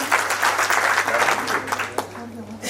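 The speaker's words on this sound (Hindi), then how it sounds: "तो मैं चाहता हूं एक बार पहले बहुत जोरदार तालियां इस हॉल में सब लोग बजा दें" Crowd clapping fills an indoor hall at a community day and book launch event, a brisk, crackling burst that stays loud throughout over a low steady hum, with a sharp knock near the end.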